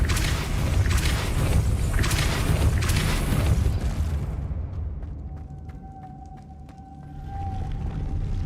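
A Depulso spell blast in Hogwarts Legacy hits as a loud, roaring burst that rumbles for several seconds, then fades into quieter ringing, chiming game effects.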